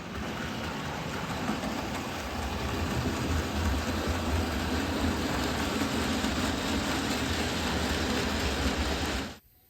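Model railway tank engine locomotives run along the same track, giving a continuous rolling whir and rumble for nearly ten seconds that cuts off abruptly at the end.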